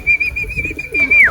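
A pigeon coos close by, with a soft low rolling murmur under a faint steady high whistle that bends downward at the end.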